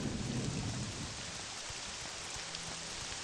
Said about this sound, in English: the storm is loud